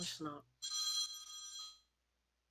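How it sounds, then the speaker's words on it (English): A mobile phone rings with a bright electronic trill lasting about a second, quiet and close, following a brief burst of speech. "That was the phone of Amber that she has."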